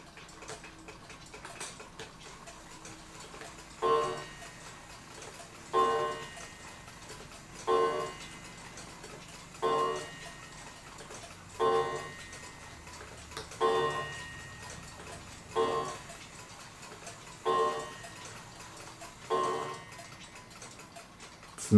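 A New England calendar clock, no. 2710, ticks alone in a quiet room. Its slow, even ticks come about every two seconds and stay soft and close.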